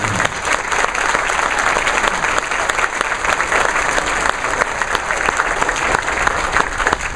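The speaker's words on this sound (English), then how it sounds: "Once again, give them a big round of applause if you will." A luncheon audience applauds scholar athletes at the Allstate Sugar Bowl event, a sustained, vigorous round of clapping from many hands that holds steady for several seconds without any speech.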